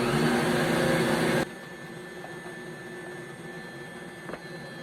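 Electric mixer mixing pumpkin bread batter, running with a loud steady whirring drone for about a second and a half before it abruptly shuts off, leaving a quieter room hum.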